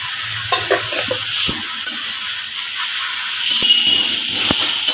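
Mixed leafy greens (saag) fry in a pan with a steady broadband sizzle while a utensil stirs them, scraping and knocking in several short bursts close by; no one talks.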